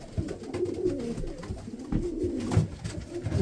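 Pigeons coo softly nearby during pairing, low throaty burbling calls repeating and overlapping, with faint rustling in the background.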